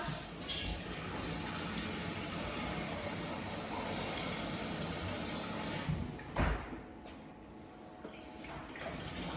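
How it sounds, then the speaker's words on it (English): Steady running tap water pours into a pan, a continuous rushing splash with a brief louder gush near the end, no voices. "what you're going to do is get some water in the pan"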